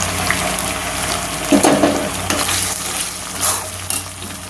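Onions fry with stone-ground ginger, garlic and chili paste, a close, steady sizzle punctuated by several stirring scrapes and bursts of spattering.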